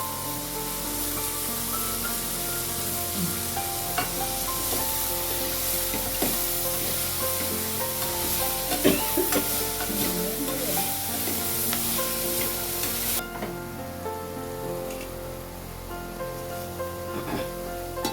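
Murungai flower and egg poriyal sizzles and fries in a pan, a continuous close hiss with scraping and clinking from stirring throughout, the sizzle easing slightly near the end.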